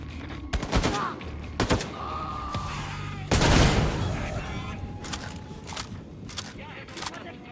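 Gunfire from the video game Wolfenstein 2: The New Colossus, several sharp shots and bursts with one heavy blast midway, mixed with game sounds and a voice talking over the action.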